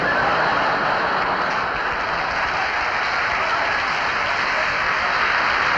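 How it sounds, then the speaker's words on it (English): A concert audience clapping their hands in a crowded venue, a dense, continuous wash of applause that stays steady and even from start to finish. "Would the people in the cheaper seats clap your hands?"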